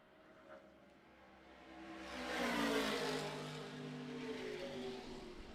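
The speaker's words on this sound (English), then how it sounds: "That's Edward Savagian in the yellow Camaro, currently running in 4th position." A yellow Camaro race car on a road course, its engine swelling from faint to a loud pass and then holding a sustained roar as it drives on at a distance.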